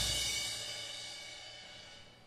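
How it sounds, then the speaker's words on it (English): A single crash cymbal from a drum kit is struck once and rings out alone, its bright, shimmering wash loud at first and slowly fading over about two seconds. "This one right here is called a crash cymbal."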